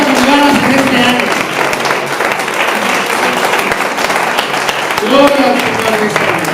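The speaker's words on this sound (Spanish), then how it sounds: "si va a aplaudir, le fuerte un aplauso al Señor" A church congregation applauds during a Sunday morning service, a steady dense wash of clapping throughout with voices and singing mixed in underneath.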